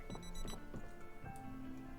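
An alarm clock rings in the video game Project Zomboid, a faint, steady electronic tone droning beneath dense, cluttered game sounds throughout.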